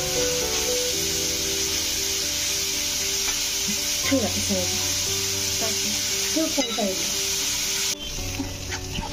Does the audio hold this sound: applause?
no